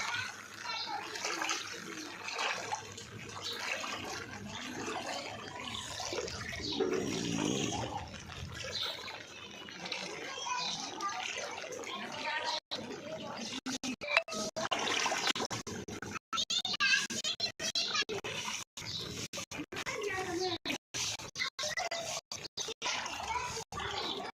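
Floodwater flowing and splashing through a house in Bhoipura, Jalna after heavy rain, a steady watery rush running throughout while people talk over it.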